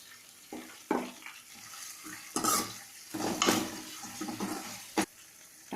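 A spoon scrapes and stirs green chilies and ginger garlic paste in a pan for mutton biryani, with several sharp clanks of utensil against metal over a soft background sizzle, close and moderately loud.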